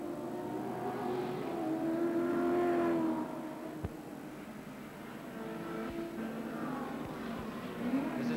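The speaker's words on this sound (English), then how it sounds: "Ray Smith driving in the Smith Holme Commodore in second place" Touring race cars including a Holden Commodore lapping a damp circuit during a 1986 endurance race, engines droning and rising in pitch as cars pass at moderate distance, steady and continuous with a few brief knocks.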